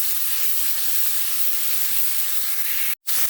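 Pork frying in olive oil, rendering its own fat: a dense, steady hiss of sizzling, loud and close, with one abrupt momentary cut near the end.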